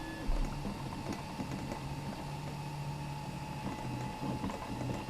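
A Geeetech Prusa I3 Pro B 3D printer running steadily, with a continuous whir and hum of motors and fans, shifting stepper-motor tones, close and unbroken with no voices.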